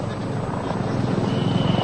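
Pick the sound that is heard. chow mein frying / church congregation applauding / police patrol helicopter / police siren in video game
police patrol helicopter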